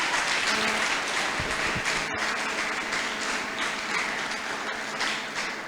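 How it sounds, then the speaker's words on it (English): An audience at an international guest lecture at LASU applauds a professor's welcome, with dense, steady clapping filling the room at full volume throughout. "A round of applause, ladies and gentlemen."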